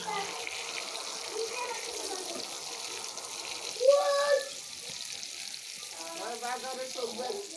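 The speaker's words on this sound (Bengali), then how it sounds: "আমি একটু লাড়ায় উল্টাই দিতেছি বাগুন ভাজি আবার" Eggplant frying in a pan and being stirred, giving a soft, steady sizzle with light scraping and clinking from the stirring and a brief louder clatter partway through, all fairly quiet.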